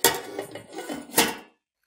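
Metal lid clattering onto a pot set up for baking Kashmiri kulcha, a few close, clanking knocks and a final louder clang before silence, no talking.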